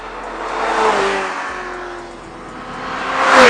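A Ferrari F355 GTS with a nearly 400-horsepower engine accelerates, its rising mechanical whine climbing through the revs with a brief dip before surging louder again toward the end.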